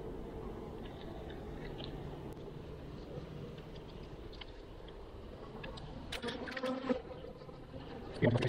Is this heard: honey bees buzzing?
yes